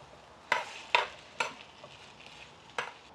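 Beef browning with a little salt in a pan while it sears for a ranch-style beef entomatado, giving a soft steady sizzle broken by four sharp utensil scrapes or stirs, close and moderately loud with no talking.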